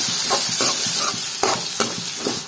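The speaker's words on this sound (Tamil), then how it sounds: "2 நிமிஷம் நல்லா வதக்கியாச்சு பெரிய வெங்காயத்தை" Onion, ginger and green chili sauté in hot oil in a pan for a citron pachadi, giving a steady loud sizzle broken by several rhythmic scraping stirs of the spoon, with no voices.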